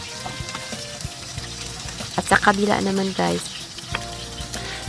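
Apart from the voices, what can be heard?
flour-coated cod fish frying in oil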